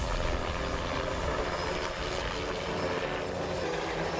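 A helicopter's rotor and engine roar steadily and loudly throughout, a dense continuous drone with no talk over it.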